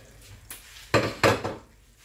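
A utensil stirs carrots and coriander in a metal cooking pot: a faint scrape, then two loud clattering scrapes in close succession, up close with no talk.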